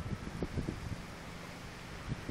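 A strong wind gust during a severe morning thunderstorm in Clinton, Missouri, blows against the microphone in low, rumbling buffets and thumps over a steady rushing background.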